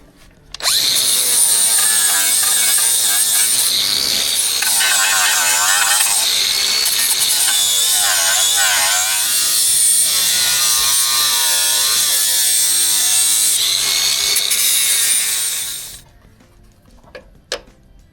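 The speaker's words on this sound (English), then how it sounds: "I'm going to go ahead and sand around all this and get this prepped for welding" A power sander grinds continuously on the metal around the pinch welds of a Lexus GX470 for about fifteen seconds, loud and close with a shifting whine, then cuts off, followed by a couple of faint clicks.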